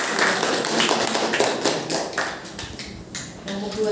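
A class of students applauds a student group during a university teaching session, bright clapping close and continuous for a few seconds before thinning out, with a voice briefly heard near the end.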